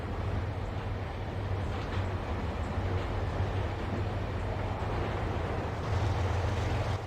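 A fast video-game train runs along its tracks with a continuous loud rumble and low droning engine hum, steady throughout with slight surges, no voices over it.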